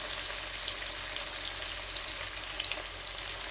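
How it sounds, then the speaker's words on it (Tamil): Onions and tomatoes sauté in a pan for a hotel-style chicken gravy, giving a faint, steady sizzle and crackle throughout. "இப்போ வந்து பார்த்திங்கன்னா வெங்காயம் தக்காளி நல்லா வதங்கிச்சு."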